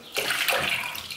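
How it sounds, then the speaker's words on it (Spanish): Water pouring into a cooking pot in a home kitchen, a steady splashing gush that starts abruptly and runs close and moderately loud throughout, with no talk over it. "Venga, pon tú el agua y yo remuevo."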